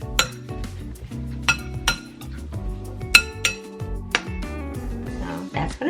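Summer salad being tossed in a glass bowl with utensils, giving repeated clinks and chinks of metal against glass in an uneven rhythm, close and clear, with no talking.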